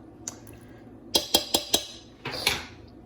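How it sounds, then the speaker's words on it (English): A spoon clinks against the pot of a slow cooker while beef stew is stirred, a quick run of four sharp metallic taps followed by a couple of softer scrapes, close and quiet. "Just gonna stir that up just a little, just to get it mixed in."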